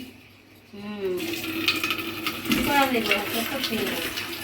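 Water runs steadily from a tap during household washing and cleaning, a continuous splashing rush that starts abruptly and carries on under a voice and intermittent talk.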